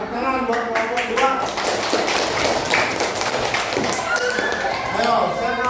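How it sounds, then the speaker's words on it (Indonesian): A university class gives group 2 a round of applause, steady dense clapping filling the room for several seconds while voices chatter underneath. "Tepuk tangan buat kelompok 2."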